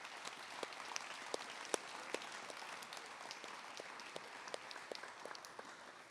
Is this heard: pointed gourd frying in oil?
no